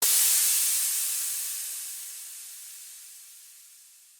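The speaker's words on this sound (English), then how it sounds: "Altogether, the crash sounds like this." A layered synthesized crash under automated Valhalla reverb bursts in bright and loud, then fades slowly over about four seconds into a long, airy, hissing wash that loses its top as it decays.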